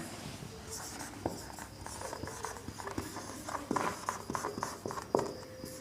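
Pen or chalk writing numbers during a Hindi maths lesson on real, even, odd and prime numbers, heard as soft, irregular scratchy strokes and taps with a few sharper ticks under a faint background hiss.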